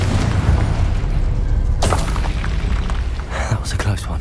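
Confringo explosive spell blast in Hogwarts Legacy, a sudden loud burst cutting through dense, rumbling combat noise, followed by a second crackling flare near the end, with talk under the din.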